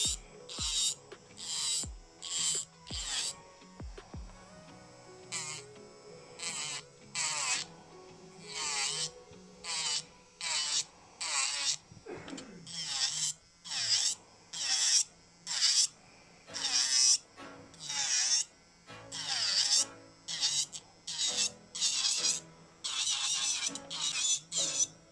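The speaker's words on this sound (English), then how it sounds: "I'm going to start off by debulking all of that product using this blue drill bit" Electric nail drill with a medium-grit large barrel bit filing down fake nail product, close repeated bursts of whirring and grinding in short strokes, with faint music playing underneath.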